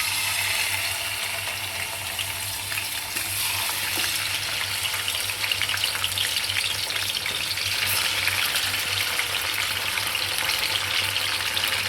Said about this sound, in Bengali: এখন রোস্টগুলো সুন্দর করে ভাজা নিব।